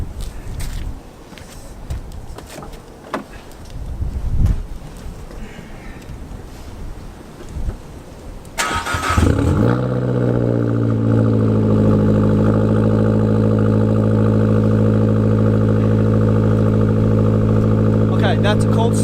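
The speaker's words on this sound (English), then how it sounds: "Okay, that's a cold start." An Abarth car engine cranks and catches on a cold start, then settles into a steady, loud idle with a deep rumble; quieter background noise comes before the start.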